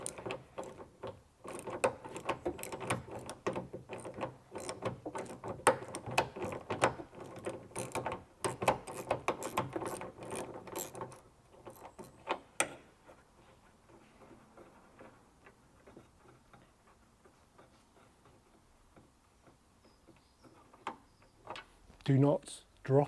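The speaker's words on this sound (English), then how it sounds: "10mm ratchet onto this" Quick clicking of a 10mm ratchet working a bolt on a VW Golf 8 GTI Clubsport, a dense run of close mechanical ticks and pawl clicks under intermittent talk, then quieter handling noises.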